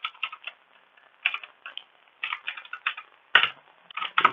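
Bursts of clicky keystrokes on a computer keyboard, typed in quick uneven runs with short pauses between them, close and fairly quiet with no voices.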